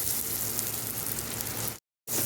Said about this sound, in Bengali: পেঁয়াজটা একটু হালকা লালচে ভাব করে ভেজে নেব।